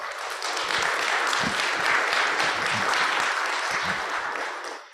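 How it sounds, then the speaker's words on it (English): Audience applause after a medical talk on hypertension and cholesterol therapy, a dense, steady wash of many hands clapping for several seconds before fading out at the end. "please give Doc a round of applause."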